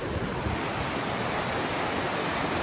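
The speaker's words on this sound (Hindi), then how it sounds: "आपको पानी की आवाज़ तो सुनाई दे रही होगी शां शां" Glencar waterfall in Sligo, fast water rushing in a steady, dense roar that fills the clip without pause, loud and continuous with no voices.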